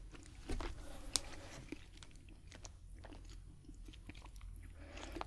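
Crunchy little rice puffs inside a milk chocolate snack, bitten and chewed close up with scattered crisp crunches over a soft background hiss.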